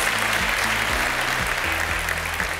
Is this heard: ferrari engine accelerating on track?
no